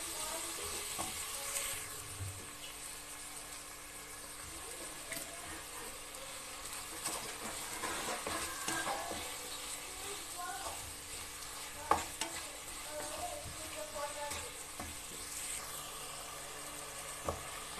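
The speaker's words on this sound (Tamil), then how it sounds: "கொஞ்சமாக உப்பு சேர்த்து நம்ம ஃப்ரை பண்ணிக்கலாம்." Onion and tomato frying with salt in a pan for paneer biryani: a quiet, continuous sizzle with gentle stirring scrapes and occasional soft clinks, heard alone at close range.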